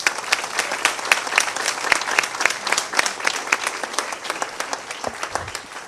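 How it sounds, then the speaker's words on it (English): Applause from an audience at a school board meeting, honoring students: dense, sustained clapping from a roomful of people, fairly close and steady throughout. "Let's give these students a round of applause."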